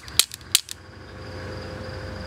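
Two sharp pistol shots about a third of a second apart, fired in a reload drill, with short echoing tails fading into a low steady hum.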